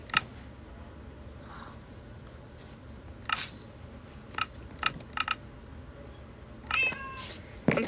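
Short, bright meows from a cat in the video game Minecraft, several separate calls spread over a quiet ambient game background, with a quick burst of meows near the end.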